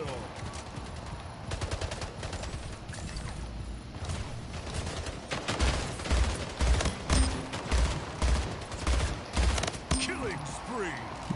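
Rapid gunfire in the video game Splitgate, dense bursts of shots and automatic fire with mechanical clicks, growing heavier and more rhythmic toward the middle, loud and close, with a player's voice occasionally heard.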